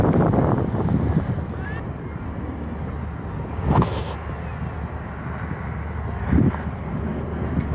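Steady wind buffets the microphone outdoors at a boomerang-throwing field, a constant low roar of moderate wind with a couple of brief gusty swells.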